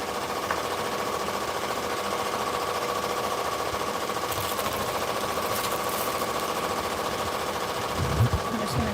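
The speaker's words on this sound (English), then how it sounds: "now we're going to set the other machine while this one is stitching out the name" An embroidery machine stitches out a name, a steady mechanical hum and rapid needle clatter running continuously and fairly loud throughout, with a brief clunk near the end and no talking.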